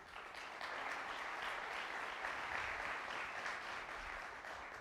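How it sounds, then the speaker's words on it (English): Conference audience applauding a corporate lead sponsor, a sustained, even patter of many hands heard from a distance, fairly faint and continuous from start to finish without speech. "Let's give Carrier a round of applause, please."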